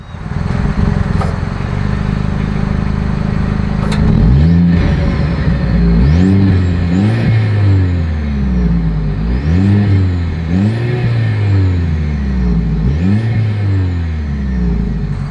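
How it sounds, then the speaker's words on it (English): A 2025 Mercedes-Benz GLE 350 SUV with chrome-tipped exhaust outlets is revved repeatedly: a steady idle, then a series of rising and falling revs that come close together, loud and close to the pipes. "here is that exhaust clip"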